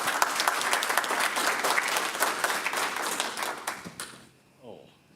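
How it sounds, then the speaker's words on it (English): A room applauds at a city council meeting honoring a departing commissioner, with steady clapping that stops abruptly near the end, followed briefly by a voice. "So let's give him a round of applause."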